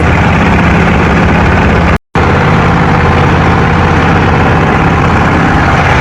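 Trawler boat engine running on the Buriganga river, a loud, steady low rumbling drone close by, broken by one brief dropout.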